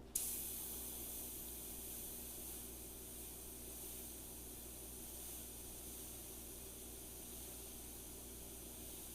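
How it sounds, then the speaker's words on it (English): An airbrush sprays out leftover paint after being back-flushed, making a steady, close, continuous hiss that runs unbroken from start to finish with no voices. "I spray out a bunch of it to get rid of whatever's left."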